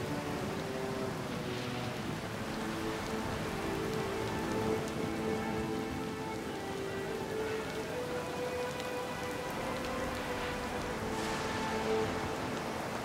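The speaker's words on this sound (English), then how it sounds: "the rain pours from the skies as if the Defiant had come to rest beneath a waterfall" Heavy rain pours onto the deck of a sailing ship in the video game Pillars of Eternity II, a dense, steady patter across the whole stretch with faint low tones and creaks underneath.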